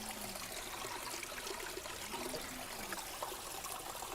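Water trickles steadily through a small forest stream, a soft continuous rushing and gurgling that stays even and close throughout with no voices.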